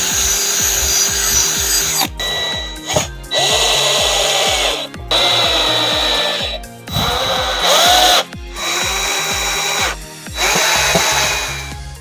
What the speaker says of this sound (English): What's nice about this drill bit is it gives me another pilot hole for this drill bit.